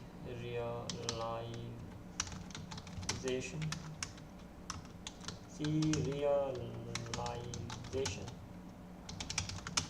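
Typing code on a computer keyboard, a steady run of crisp key clicks with someone talking intermittently over it.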